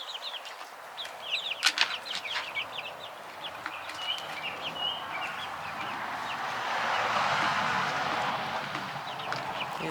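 Backyard chickens cluck softly with a quick burst of wing flapping near the start, then settle into quieter scattered calls over a low evening background hum.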